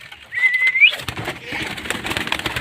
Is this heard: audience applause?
no